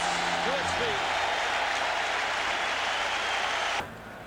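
Hockey arena crowd at a 1994 Stanley Cup playoff game between the Vancouver Canucks and New York Rangers, roaring as goalie Kirk McLean makes a save; a loud sustained roar that drops away abruptly near the end.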